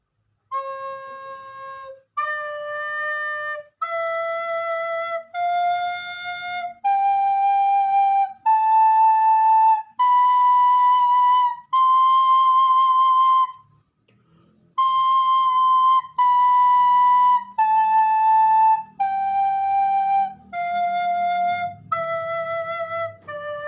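A recorder plays a slow scale of clear, sustained notes rising step by step, then descending, each note separate, alone without voices.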